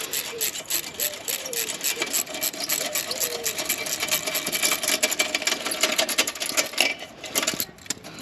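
A power tool whizzes bolts out of a small Fiat 875cc engine, giving fast rattling, buzzing bursts with metallic clinks, continuous and fairly close.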